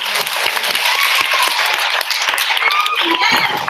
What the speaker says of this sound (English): I want you guys to give a hand to my assistants